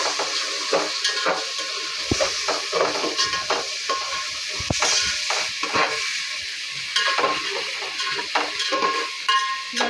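Ingredients are stirred in a frying pan with a utensil scraping and clinking against the metal over continuous loud sizzling, with a steady rhythm of strokes and no voices.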